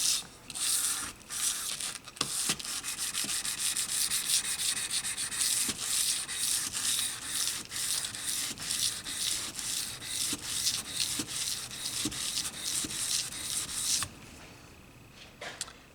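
A knife blade is rubbed flat against a sharpening stone in a steady run of rhythmic scraping strokes, close and clear, stopping near the end.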